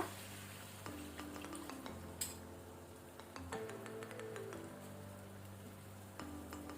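Chicken salan curry is stirred in a pan after water has been added, producing soft, repeated scraping and gentle bubbling sounds at low volume, with no talking.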